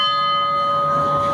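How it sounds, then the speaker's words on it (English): The Freedom Bell rings at a July 4 ceremony at VFW Post 2673 in Cody, Wyoming, a loud, sustained metallic tone with rich steady overtones filling the whole moment. "We will now proceed with the bell ringing."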